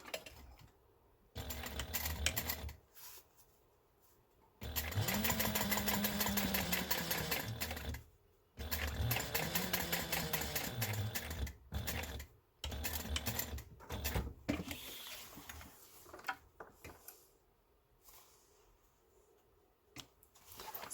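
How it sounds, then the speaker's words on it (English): A sewing machine top stitching through lining and exterior fabric on a bowler-style bag, with several loud bursts of rapid needle chatter separated by short pauses and quieter handling noises. "you're going to give it a good top stitch."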